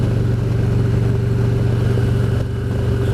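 Touring motorcycle cruising on winter roads, a loud steady engine drone with a low pulsing throb and constant road and wind rush, holding an even pace with no voices.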